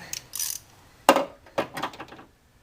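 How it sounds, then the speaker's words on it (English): Clicks and scraping of a PCV valve being pulled from the intake of a Chevrolet Vortec 5.7L 350 engine, a few short mechanical knocks and rattles close by with quiet gaps between them. "Now the PCV valve will also need to be pulled out"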